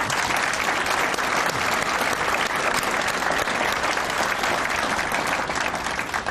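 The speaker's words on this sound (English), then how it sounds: "I'd like at this time to please join me in applauding my wife Brenda" An audience at a hall of fame induction ceremony applauds in a sustained, dense roar of clapping, full and even throughout with no talk over it.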